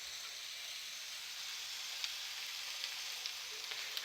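Mustard oil sizzling in a pan with spices, potato and taro greens, a steady close frying hiss with faint scattered pops.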